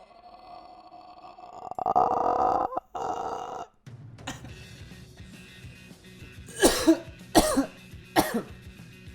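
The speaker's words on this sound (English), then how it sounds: "Coughing fit." A burst of harsh, strained coughing followed by several sharp, loud coughs that come in quick succession near the mic.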